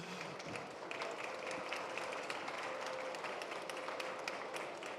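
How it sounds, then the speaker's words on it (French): Steady, faint applause from a studio audience on a French building-trade TV set after a discussion of dying timber, an even patter of clapping with no talk. "Vous pouvez applaudir."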